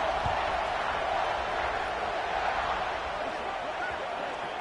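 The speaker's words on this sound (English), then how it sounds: "this crowd is buzzing after that last score" A football stadium crowd buzzes continuously after a score, a broad, distant-sounding roar of many voices that stays even throughout.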